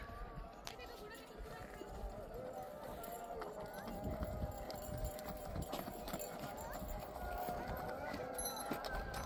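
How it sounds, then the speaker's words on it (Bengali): Horse hooves clip-clop along a busy roadside amid traffic honks and rumble, with voices talking throughout; the steady hoofbeats sit mid-distance within dense street noise. "একটি ঘোড়া দেখা যাচ্ছে, দেখুন দাবড়ি আসছে"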